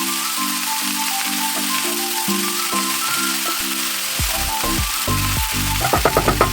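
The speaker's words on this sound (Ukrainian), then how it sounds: "Поки смажиться наша капусточка" Young cabbage sizzles and fries steadily in a hot pan, a loud continuous crackle with a few sharper pops near the end.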